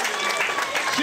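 Spectators clap at a women's cycling race podium ceremony outdoors in Brittany, a brief burst of lively applause with an announcer's voice running over it.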